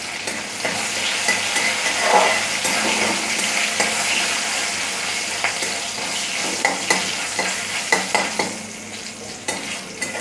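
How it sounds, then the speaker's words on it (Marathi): Crushed garlic sizzles and fries steadily in a pan for an aubergine bharit with dried fish, with scraping stirring clicks of a spatula growing sharper toward the end; no one speaks. "लसूण चांगला फ्राय करून घ्यायचं"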